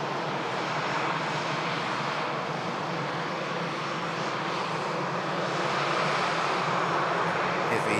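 A Ryanair airliner from Copenhagen at Manchester Airport, a loud, continuous broadband engine roar that stays close and steady for several seconds with no talk over it.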